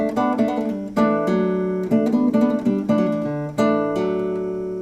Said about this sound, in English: a pedal tone on top and a moving line